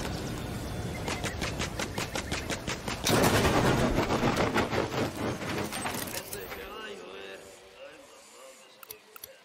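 Rapid automatic gunfire bursts in the video game Ghost Recon Wildlands, loud rattling volleys over several seconds that taper off into scattered shots, with voices underneath.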